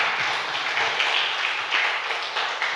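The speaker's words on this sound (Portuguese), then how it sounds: "Aplaude Ele mais uma vez, em nome de Jesus" A church congregation applauds during a sermon, a dense, steady wash of many hands clapping together that holds at an even, full level from start to finish.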